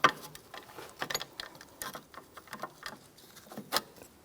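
A parking brake shoe adjuster on a 2013-2018 Toyota RAV4 is turned by hand, giving a close string of small metallic ticks and ratcheting clicks in irregular bursts, fairly faint and with no voices.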